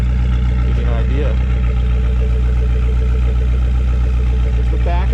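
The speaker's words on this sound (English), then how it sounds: "This is, we'll call it a special exhaust, so we'll call it. Again, I think it sounds great." A 1998 Lotus Esprit V8 idles with a special aftermarket exhaust, a steady deep rumbling burble heard up close, while someone talks over it.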